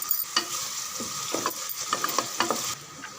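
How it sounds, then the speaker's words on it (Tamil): Chopped onions sautéing in a hot pan with curry leaves for chicken kuzhambu, a steady sizzle broken by several short scraping stirs of a spoon. "பாதி அளவுக்கு வெங்காயம் வதங்கினா போதும்"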